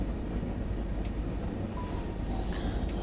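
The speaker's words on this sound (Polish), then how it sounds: "Resztę pociąg się tutaj dotoczy." BR 185 electric locomotive hauling a freight train in Train Simulator Classic, rolling steadily with a continuous low rumble and faint high hiss throughout, with no talk.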